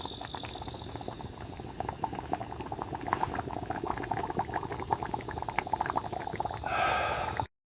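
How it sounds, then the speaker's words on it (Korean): Water simmers in a small kettle over a low flame for herbal tea. Steady, dense bubbling and popping continue throughout at moderate loudness before the sound cuts off abruptly. "약한 불꽃 위에서 물이 끓는 동안"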